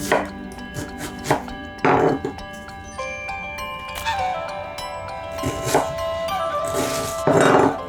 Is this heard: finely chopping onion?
yes